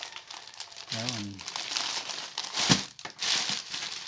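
Plastic parcel packaging crinkles and crackles in close, irregular bursts as it is opened for unboxing rubber shoes, with a person speaking briefly between the rustles.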